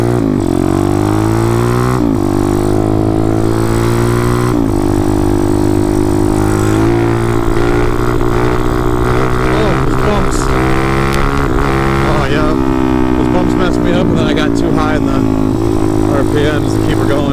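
A carbureted motorcycle engine at full roar for a wheelie, loud and sustained with rising and falling revs as the throttle is worked, harsh and strained throughout.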